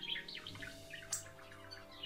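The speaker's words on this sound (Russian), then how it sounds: "Вместо красивых трелей птица выдает неприятное чириканье." Hawfinch giving harsh, unmusical chirps rather than song, a run of short calls repeating through the stretch against a faint steady background, moderately close and alone without voices.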